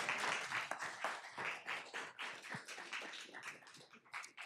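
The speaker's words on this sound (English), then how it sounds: "Round of applause" Audience at a school board meeting applauding, a steady wash of many hands clapping at once, moderately distant and fairly quiet, continuing for several seconds without a break.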